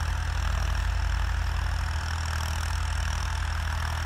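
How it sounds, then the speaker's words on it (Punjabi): A New Holland tractor engine runs steadily nearby, a constant low diesel rumble with an even throb and no change in pace. "ਹੁਣ ਟਰੈਕਟਰ ਤੁਰਦਾ ਆ"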